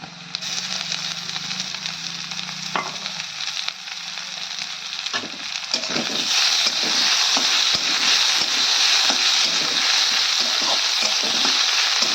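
Ground green chili paste sizzles loudly in a pan of lightly deep-fried onions, a steady bright hiss that swells as the paste is added, with occasional spatula scrapes and stirring knocks throughout.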